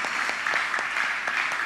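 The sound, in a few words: applause from church congregation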